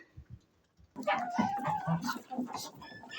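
Hens cluck and chatter close by in a busy farmyard coop, a steady flurry of short calls with some low rustling underneath.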